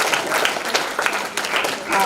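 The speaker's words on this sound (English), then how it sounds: "I think we need a clap" A school audience claps in a brief burst of scattered applause, loose and uneven, with a voice talking over it.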